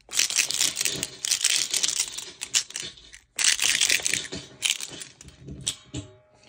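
Dense, gritty rattling of a shaker box played through harsh noise gear with the effect pedal off, loud bursts of crunchy, crinkling noise with a brief pause midway, no voices.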